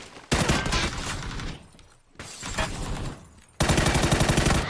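Loud bursts of rapid automatic gunfire from a multiplayer shooter game, three dense volleys separated by brief lulls, close and continuous with no voices over them.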